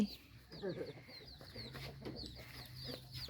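Chickens cluck and chirp around a rice-field farm in rural Thailand at dawn, a steady low chorus with a few sharper calls, fairly close but soft.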